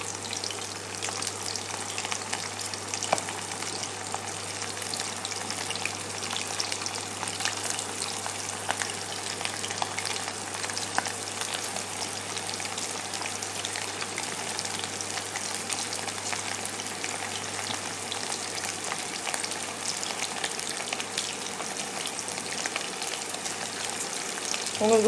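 Chicken pieces fry in hot oil, a steady dense sizzle with bubbling crackle running unbroken and fairly close throughout, with no voices over it.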